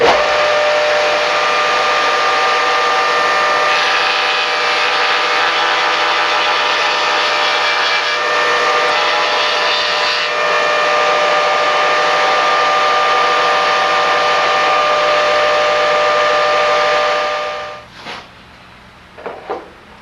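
A woodworking shaper fitted with an Incra jig cutting dovetails, a loud sustained motor whine with steady tonal hum that runs unbroken before spinning down near the end, followed by a few faint clatters.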